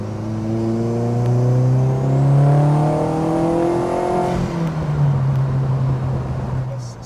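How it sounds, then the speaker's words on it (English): A turbocharged four-wheel-drive Peugeot 206 GTI revving up inside the cabin with a rising whine, a sudden release as the turbo dump valve vents, then a low exhaust burble. "the dump valve, and then you get a nice burble from the exhaust."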